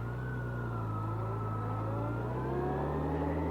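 A 2006 Yamaha FJR1300 motorcycle pulls away on a slippery wet road, its engine a steady, loud drone that rises slightly in pitch as it gains speed, with continuous road and wind noise beneath.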